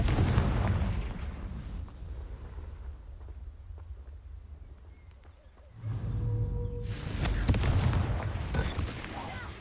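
Confringo spell explosions in a video game: a loud blast rumbles at the start and fades. A second heavy booming burst hits later and rolls on to the end.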